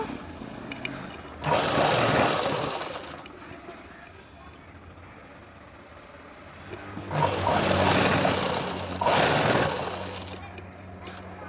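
Electric sewing machine stitching the lining of a Punjabi dress, running in two bursts of steady motorized whirring, one short and one longer, separated by a quiet pause, fairly close and moderately loud.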